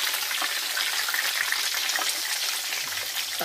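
Pork belly deep frying in hot oil for lechon kawali, a steady, dense sizzle and crackle running unbroken and fairly close throughout, with no voices.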